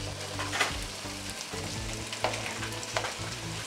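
About 700 grams of chicken pieces stir-fry in a pan over garlic, a steady loud sizzle with occasional scraping stirs and clatter, no voices.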